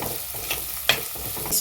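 Onion, tomato and chili stir-frying in a pan, a brief continuous sizzle with light stirring scrapes and small clicks, close and steady without talk.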